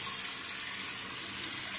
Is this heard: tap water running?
yes